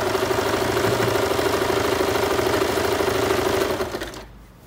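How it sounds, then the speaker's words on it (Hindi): Sewing machine stitching across folded fabric while making a pair of palazzo trousers, a steady, close, continuous mechanical whir that runs for about four seconds before stopping abruptly, with no talking. "फोल्ड करने के बाद अब हम इस पर स्टिच कर लेंगे।"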